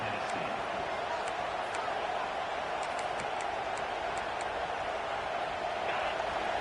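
A college football stadium crowd roaring steadily at a Vols home game against UConn, a broad continuous wall of noise with scattered sharp clicks, no pauses.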